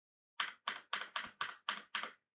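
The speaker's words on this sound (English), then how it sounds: "if you've got a loud keyboard, you want to go ahead and just press the keys." Seven sharp, evenly spaced clacks of a loud computer keyboard's keys being pressed one at a time, close up and clear against silence, with no talking.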